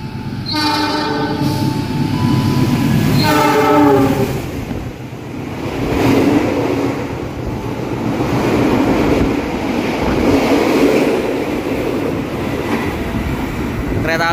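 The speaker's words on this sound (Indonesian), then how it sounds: "Nah, kereta penumpang lagi ini." Argo Parahyangan passenger train passing straight through Midland Telaga Murni station, its horn sounding in two long blasts near the start, followed by a loud, continuous roar and clatter of the carriages rolling past close by.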